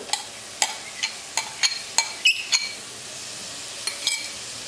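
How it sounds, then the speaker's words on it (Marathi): Mashed roasted eggplant is stirred with green chili in a pan, a spoon scraping and clinking against the metal in irregular bursts over a low sizzle. "सगळं छान मिक्स करून घ्यायचंय आहे"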